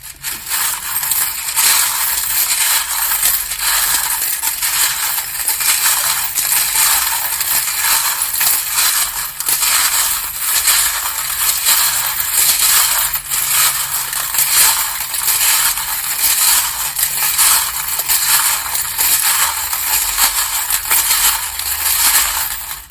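Continuous, dense metallic rattling and clinking, loud and close, as small metal charms and dice are shaken together without pause during a tarot reading.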